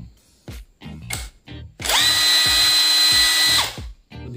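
A repaired impact wrench runs in large (high) mode in a burst of about 1.7 seconds, loud and close, with a steady high whine, between short clicks and handling noises.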